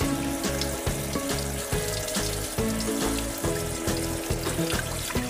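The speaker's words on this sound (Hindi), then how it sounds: "अब हम इसके ऊपर थोड़ा ठंडा पानी चला देंगे।" Cold tap water runs steadily over freshly strained homemade paneer in a kitchen, a continuous splashing wash mixed with rhythmic background music and no talking.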